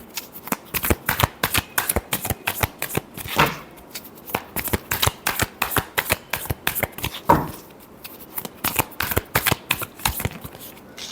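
Tarot cards are shuffled close up in quick, crisp riffling bursts with a steady rhythm and short pauses, no talking.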